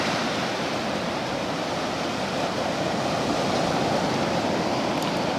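Ocean surf rolls onto Holden Beach, North Carolina, at night as a steady, close, unbroken wash of noise with no talking over it.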